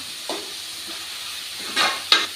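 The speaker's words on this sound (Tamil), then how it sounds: "காய்கறி நல்லா எண்ணெயிலே வதங்கட்டும்" Vegetables such as beans and carrots sauté in oil in a pan, giving a soft, steady sizzle under a low hiss. A few brief, sharp scraping strokes rise above it, near the end especially.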